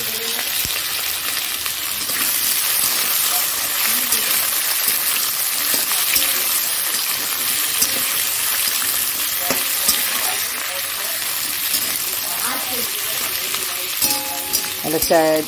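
Potatoes, green chillies and tomato frying in a pan for aloo bhujia, with a constant loud sizzle under repeated scraping strokes of a spatula stirring the pan close by.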